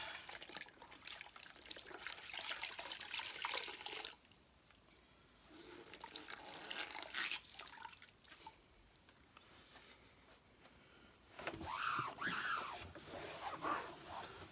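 Tap water runs over a part of an Electrolux 304 cylinder vacuum cleaner as it is rinsed, a soft close splashing and trickling that comes in three uneven stretches with quieter pauses between them, faint overall and with no talking.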